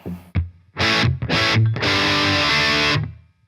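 A crunchy, overdriven electric guitar through a Boss Nextone amplifier rings out in a few chord stabs, then one long sustained chord that fades out, loud with no talking.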